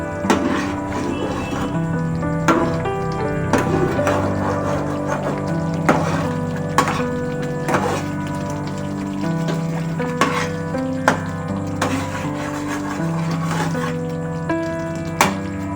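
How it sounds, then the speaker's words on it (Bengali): Veg manchurian being stirred in a hot frying pan: a steady sizzle runs underneath while a spoon scrapes and clicks against the pan in irregular strokes, close and fairly loud, with no talking. "এবার একটু নাড়তে হবে, নাহলে লেগে যাবে তলায়।"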